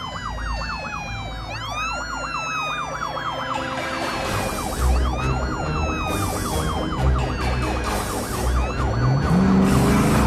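Wailing police car siren from a traffic cop vehicle in a Friday Night Funkin' train level, sweeping up and down repeatedly and loudly over dense game music and rumbling train noise, continuous throughout.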